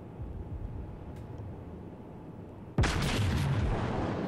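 Battleship South Carolina's naval guns in World of Warships: a steady low rumble of background noise, then one loud, sudden broadband boom near the end that stays as a sustained roar.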